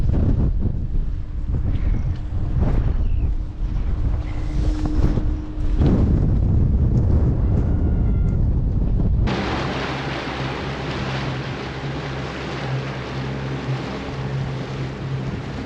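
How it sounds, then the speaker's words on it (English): Strong wind buffets the microphone in gusts beside the water of a sheltered bay at an island campsite, with waves lapping. Partway through, the sound shifts to a steadier rushing roar. "it's pretty windy"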